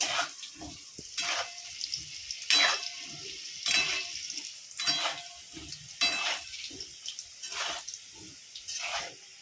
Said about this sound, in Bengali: দেখুন আলুটা লাল করে ভেজে নিয়েছি